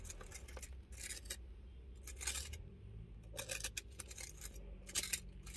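Crispy fried fish batter crunches and crackles in short bursts, several sharp brittle snaps spread across the moment, close up but fairly quiet, with no talking over them.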